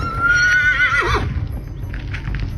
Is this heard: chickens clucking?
no